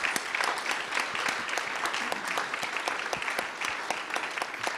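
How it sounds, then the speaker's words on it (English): Round of applause at a pizza dinner for the people who prepared and served the food, steady crowd clapping with distinct sharp claps throughout, moderately loud and sustained for several seconds. "Let's give them a round of applause"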